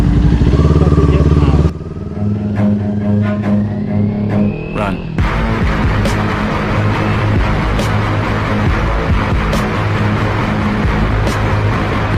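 Two Kawasaki Ninja 400 motorcycles ride together, a loud continuous engine drone with rising and falling revs and wind rush at close range, briefly under a rider's voice at the start.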